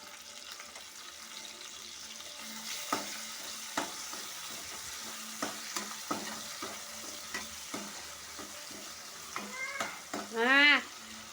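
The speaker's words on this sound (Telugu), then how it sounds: "ఇప్పుడు టమాటా వేసుకుంటున్నా." Tomatoes dropped into a pan of frying onions and ginger paste for a chicken fry, a steady sizzle under sharp spoon scrapes and clinks, ending in a louder burst of hissing and clatter.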